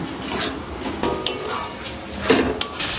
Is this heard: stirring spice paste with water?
yes